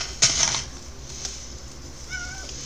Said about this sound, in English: Oh, I'm chasing a cat for string.